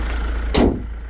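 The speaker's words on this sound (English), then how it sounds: "Close the bonnet." The bonnet of a 2024 Kia Sorento GT Line seven-seat SUV shuts with a single short, solid thud against a low, steady background hum.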